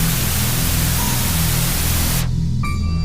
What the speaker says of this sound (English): I woke up to a screen full of static. Just white noise, flickering